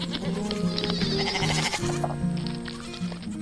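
Goats in a pen on an animated farm bleat in a loud, drawn-out cry that rises and wavers, set over a steady musical backing.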